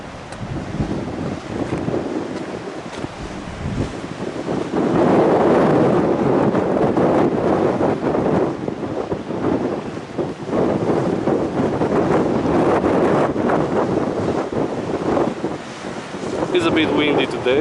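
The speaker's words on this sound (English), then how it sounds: "It's a bit windy today, but the weather is fine." Strong wind gusting outdoors on Naxos island in Greece, buffeting the microphone with rough rumbling bursts that swell and ease throughout, close and loud.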